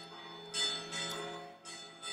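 A Catholic church bell rings from the top of a mountain in Artana, clear bursts of tolling separated by short pauses, distant but distinct, with no one speaking.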